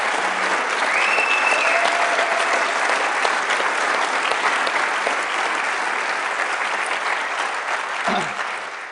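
Sustained round of applause from an audience at a 1 Million Cups Kansas City entrepreneur gathering, steady dense clapping filling the whole stretch before tapering slightly at the end.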